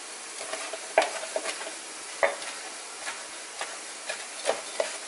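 Food being stirred in a pan on a barbecue with a utensil, eggs and mixture sizzling softly under a string of light, evenly spaced scrapes and taps, fairly quiet and without voices.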